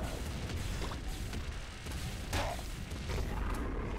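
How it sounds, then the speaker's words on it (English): The flame cannon weapon fires in the video game Nuclear Throne, a continuous roaring, crackling blast of game sound with bursts layered throughout and no talk over it. "Yeah, flame cannon's doing quite a lot."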